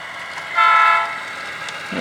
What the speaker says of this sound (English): I'm honking my horn here because I just want to make sure I got power.